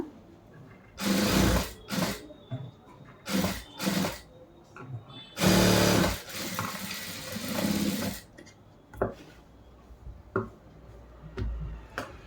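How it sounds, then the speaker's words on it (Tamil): A sewing machine stitches a round shape on a churidar top in short, separate bursts of fast mechanical whirring and clatter, with quiet pauses between runs. "அதே போல் இந்த ரவுண்ட் ஷேப்பில் தையல் போட்டுருங்க."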